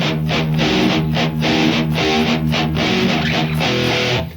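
A distorted metal guitar plays an intro riff with full band backing, heavy chugging chords landing on a steady pulse, dense and loud throughout.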